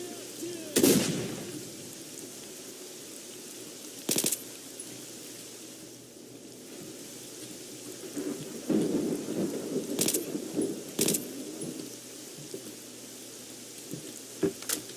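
Steady rain hisses throughout while sharp cracks and rumbles of thunder break in several times, some close and loud, in the video game S.T.A.L.K.E.R.: Shadow of Chernobyl.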